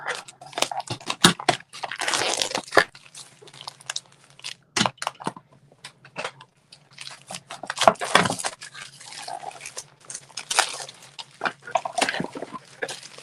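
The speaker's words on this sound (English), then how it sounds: "And then this package here, I'll get it my scissors again. Open it up." A plastic stamp-set package is cut open with scissors, giving close, crisp crinkling and snipping bursts in irregular clusters separated by short pauses, with no talking.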